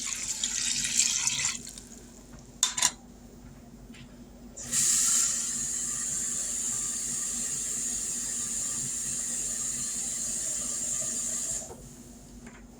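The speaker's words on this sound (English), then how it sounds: "And I will add 2 more cups of water." Water from a tap runs into a pot for ham and white bean soup, a steady hiss of filling with a few brief clanks and breaks between pours.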